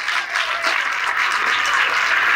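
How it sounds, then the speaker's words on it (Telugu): An audience at a public event, cheering a government education loan scheme, claps loudly in a dense, continuous wash of applause that holds steady from start to finish. "ఒక్కసారి మనందరూ గట్టిగా చప్పట్లు కొట్టాలి"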